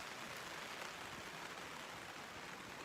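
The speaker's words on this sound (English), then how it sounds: "because now, of course, it started raining again" Steady rain patters on a makeshift camp awning at an alpine 4x4 campsite, a soft continuous hiss with no talking.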